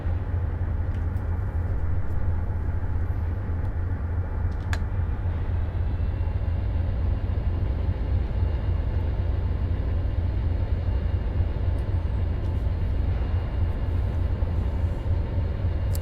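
Amtrak passenger locomotive in a train simulator game, heading southbound toward Miami at around 45 mph: a steady, loud low engine drone with constant rolling rumble and hiss throughout, with no talking.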